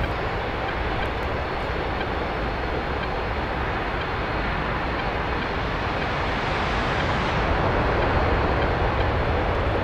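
A jet aircraft touches down in the DCS flight simulator during formation practice with Hawk and F-15 jets, a constant loud broad roar of engine and rushing air with no break.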